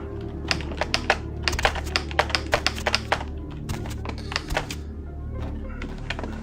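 Rapid, uneven keystrokes on a computer keyboard during a night-time gaming session, close and clear, with clustered clacks and short pauses over a low background hum.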